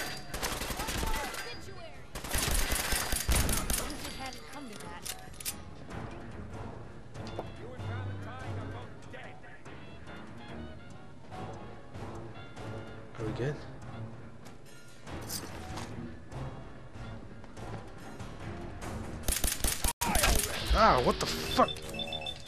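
Heavy gunfire sounds in the video game Fallout 4, with dense rapid volleys of loud shots and bursts spread throughout. Someone talks over the shooting.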